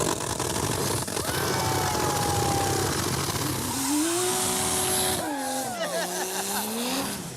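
A turbocharged Toyota 2JZ-swapped Dodge Charger, the Death Metal Charger, roars under hard acceleration, its engine note sweeping up and down loudly and continuously with a rising whine and some tire noise.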